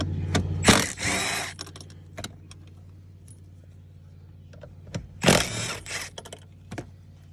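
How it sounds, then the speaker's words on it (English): A ratchet working 14 mm seat bolts loose inside a Mitsubishi Evo X: two close bursts of rapid clicking, each about half a second, over a steady low hum, with scattered knocks between. "You take the ratchet or impact like what I got. Get the bolts out."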